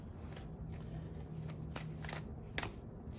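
Tarot cards being shuffled by hand, a soft papery riffling with a few sharper flicks, fairly faint and steady over quiet room noise, no talking.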